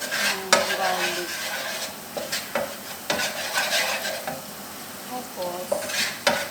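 Garlic frying in butter in a pan while turning golden brown, a soft steady sizzle broken by repeated scrapes and clinks of a utensil stirring against the pan.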